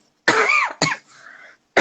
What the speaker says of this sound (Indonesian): Aduh, maaf. Batuk lagi.